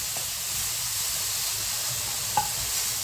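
Dried pollock stir-fried in perilla oil hisses and sizzles steadily in a pan, with a soft scrape of stirring near the end and no talking.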